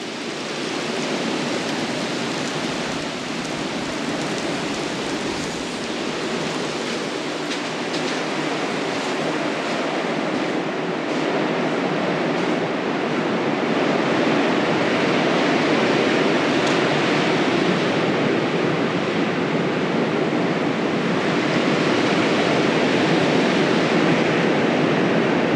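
Heavy rain pours down hard and slanting at a house building site, a dense, steady broadband roar that grows slightly louder over time, with no talk.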